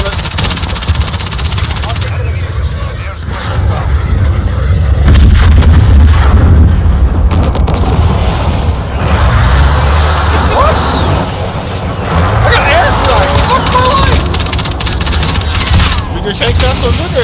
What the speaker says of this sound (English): Okay, I'm in another tank, goddammit.